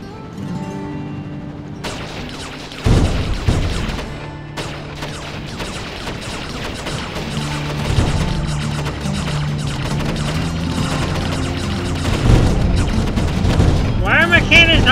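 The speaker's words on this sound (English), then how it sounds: "Why are my cannons not hitting him?" Megaton cannons fire in the TerraTech video game, a run of booming shots and crackling impacts over busy game noise, loud and sustained with small bursts throughout.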